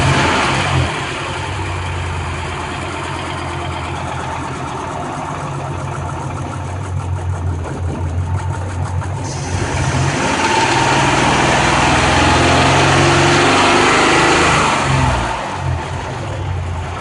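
A car engine running rich and smoky idles steadily, then revs up and holds at higher speed, loud and close throughout with no voices.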